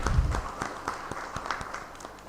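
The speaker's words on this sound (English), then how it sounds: "So a round of applause." Scattered applause from an audience at a criminal justice managers' meeting, a modest room of irregular claps fading after a louder start.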